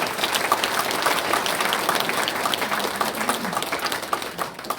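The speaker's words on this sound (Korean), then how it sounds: "다시 한번 큰 박수를 보내주시기 바랍니다." Audience at a governor's town-hall talk concert with local residents breaks into sustained, dense applause that stays loud and even before tapering off at the end.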